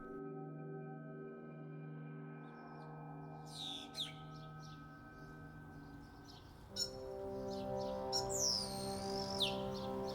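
Faint bird chirps and tweets come in scattered bursts over a low steady hum of sustained tones, growing a little busier toward the end.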